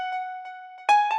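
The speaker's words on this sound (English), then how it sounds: "the patch on the M1 piano is the grand piano" A grand piano patch on a Korg M1 synthesizer, set for 90s dream trance, plays sustained bright tones with soft repeated notes, then a louder chord swells in near the end, heard alone with no talking.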